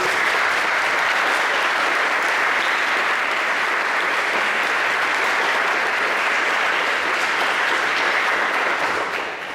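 A lecture-hall audience gives Milcho Manchevski a sustained, dense round of applause, loud and even throughout before tapering slightly at the end.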